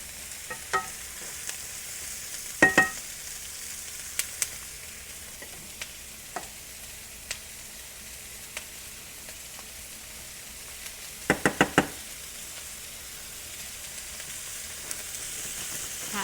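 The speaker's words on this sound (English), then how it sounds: "I'll get these sauteed out." Vegetables sautéing in a pan for cauliflower fried rice, with a soft steady sizzle broken by a few sharp clicks and scrapes of stirring, close and quiet with no talk.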